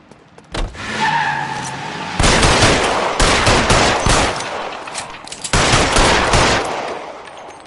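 A shootout in L.A. Noire with loud, close gunfire in sustained bursts and rapid volleys, broken by short pauses, after a brief opening of vehicle noise.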